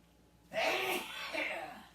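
One loud sneeze bursts out in a home kitchen during cobbler preparation, fairly close, with a short breathy tail afterward.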